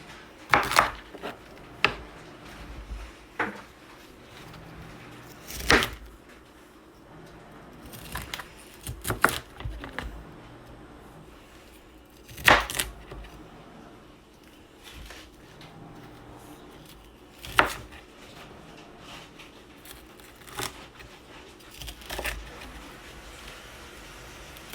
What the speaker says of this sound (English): Now I'm going to chop up some of these broccolis.